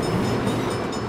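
A train rolls by in the Saints Row video game, a dense, steady rumble of rail cars that fills the whole moment at close range without any break.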